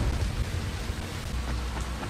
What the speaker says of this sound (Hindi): ये बरसात और हो रही है यार